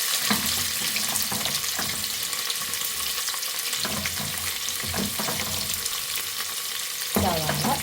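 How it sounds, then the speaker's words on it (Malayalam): Sliced onion sizzles loudly in hot oil in a pan on the stove, a steady close crackle broken by scraping stirs and a few clatters, with no voices. "അടുപ്പത്ത് വെച്ചിട്ട് ഓയിൽ വെച്ചിട്ടുണ്ട്, അത് നല്ലോണം ചൂടായി അല്ലേ. സവാള"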